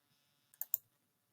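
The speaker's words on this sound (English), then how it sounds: "Click it to select it." A computer mouse clicked while working in GIS software: two or three crisp, close clicks in quick succession, clean and isolated in a quiet room.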